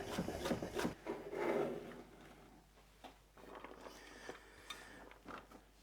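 A knife slices through broccoli stems on a board, a burst of close, rough scraping cuts at first, then scattered lighter taps and rubs that grow quieter.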